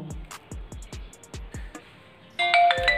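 A phone's message notification chime rings out for a text from Jio, a bright tonal ding arriving near the end after a run of plucked musical notes.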